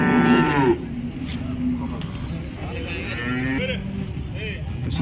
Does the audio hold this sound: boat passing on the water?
no